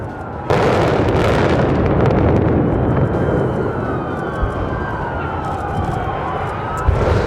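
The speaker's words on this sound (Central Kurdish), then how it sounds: "ئەمە چرکە ساتەکانی تەقانەوە و پرۆسەی لابردنی سایلۆی کۆنی سلێمانیە" Controlled dynamite demolition of the old Sulaymaniyah silo, heard as a loud sudden blast followed by a long rolling rumble and debris noise, with a siren-like tone in the background.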